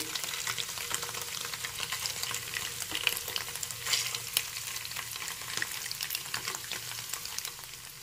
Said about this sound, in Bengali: এখন তেল গরম হয়ে গেছে এবার পনিরের টুকরোগুলো দিয়ে একটু ভেজে নিতে হবে